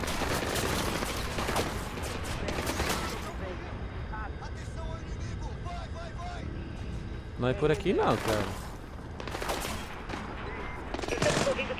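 Bursts of rapid video-game gunfire from Splinter Cell: Blacklist crackle in clusters, some sharp pistol volleys in quick succession, while someone talks over the action.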